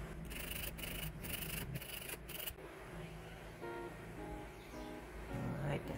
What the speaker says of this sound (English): grind it as deep as you can, or as you like